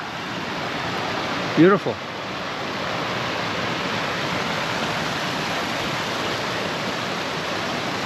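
A mountain stream on the climb up Olancha Peak rushes in a steady, broadband wash close by, with a brief spoken word early on.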